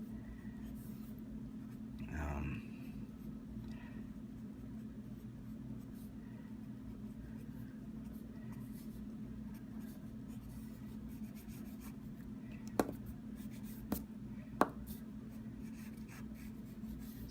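Pencil or pen scratching and rubbing on paper while drawing the Joker, a soft continuous close scratching under a low steady hum, with a few faint taps toward the end.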